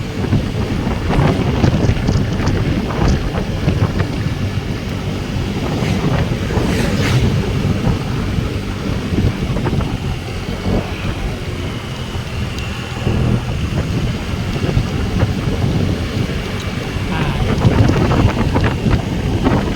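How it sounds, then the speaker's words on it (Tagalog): Strong wind buffets the microphone in a constant low roar, with rumbling gusts throughout and no voices. "Grabe yung hangin guys."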